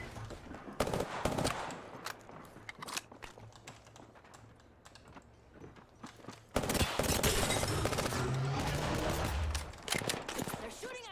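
Rapid gunfire bursts in the battle-royale game Apex Legends, sharp clustered shots crackling near and loud over a busy game mix, intensifying in the second half.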